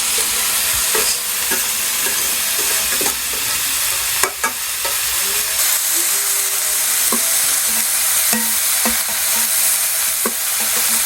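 Vegetables sautéed and stirred in a pan in a home kitchen: a steady loud sizzle with repeated scraping strokes of a spoon, no talking.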